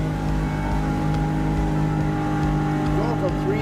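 Outboard motor on a MacGregor 26X sailboat pushes a steady, loud drone while the boat powers up through a buoyed channel, the engine note holding a constant layered hum with water and wind noise throughout.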